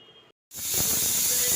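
A pressure cooker on a gas stove vents steam: a faint low hum, a brief silence, then an abrupt loud, steady hiss that holds close and unbroken to the end.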